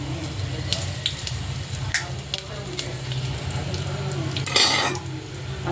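Whole spices, cinnamon, cloves and fennel, frying in hot oil in a pan for bachelor biryani, a close steady sizzle broken by scraping stirs and clinks of a metal spoon against the pan.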